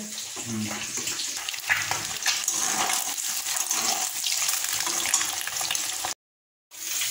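Eggs rinsed under a running kitchen tap, a steady hiss of flowing water with faint splashing that cuts off abruptly near the end, then briefly resumes.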